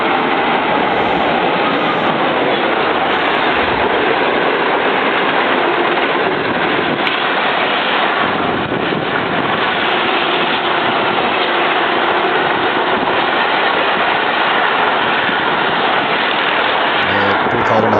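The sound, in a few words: Millat Express train running on railway tracks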